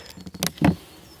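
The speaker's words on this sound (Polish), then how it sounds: "Pszczoły są. Obsiadają pięć ramek." Honeybees in a hive just opened after winter, clustered over five frames, give a close, uneven buzz that swells in a few short bursts over a low background hum.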